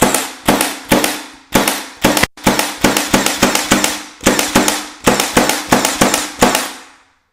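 A Milwaukee M18 Fuel 18-gauge brad nailer, Gen 2 model 2746, fires repeatedly into hardwood. Loud, sharp snapping shots come in a quick, slightly uneven series of about twenty, each with a brief decaying ring, and no voices.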